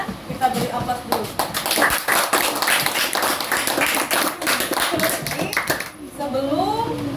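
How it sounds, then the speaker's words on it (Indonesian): Classroom applause for a student group after their presentation, a burst of many hands clapping close by for several seconds, with voices talking over it and a speaking voice continuing as the clapping fades. "Kita beri aplaus dulu."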